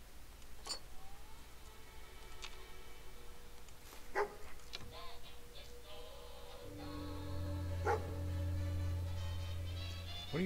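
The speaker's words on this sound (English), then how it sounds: "What are you barking at?" A dog in the Fallout 4 video game gives a few scattered barks and yips against a droning game background, joined later by a low sustained hum.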